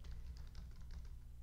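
Quiet keystrokes tap quickly on a computer keyboard while someone writes Java code, a soft, muffled patter under steady low background hum.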